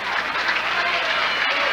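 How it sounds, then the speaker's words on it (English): Crowd at a 2000 PBA bowling tournament applauding and cheering steadily throughout, a dense continuous roar of clapping with no clear speech. "Boy, the crowd's getting into it."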